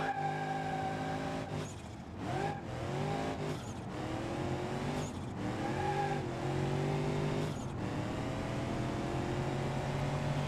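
Datsun 200BX in BeamNG.drive with a reworked engine setup, revving loud and steady with several sharp gear-change dips and rising pitch sweeps as it accelerates, close and continuous with no talk.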